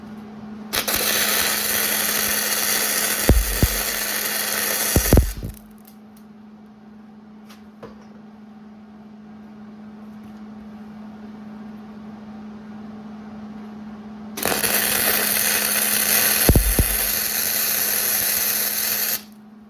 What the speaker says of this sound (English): I'm gonna get the welder fired up and I'm gonna tack that sucker